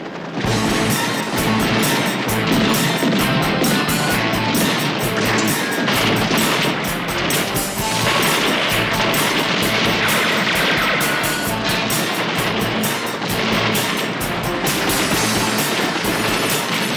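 Sustained heavy gunfire and explosions roar continuously for the whole stretch, loud and dense, with rapid bursts layered over booming blasts.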